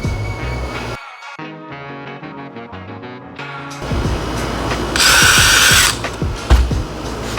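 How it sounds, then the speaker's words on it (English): A power drill driven through MDF with a very tiny bit, pre-drilling pilot holes for tacks: a few short, uneven whirring bursts up close, with a sharper, louder grinding stretch near the end and some handling clatter, no talking. "on the MDF holes, I'm going to pre-drill for the tacks"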